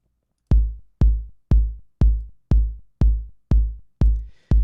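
A kick drum hits nine times at a steady rhythm, each beat sharp and punchy with a fast attack and a deep decaying tail, shaped by a compressor used as a transient shaper; loud and close, with no voices.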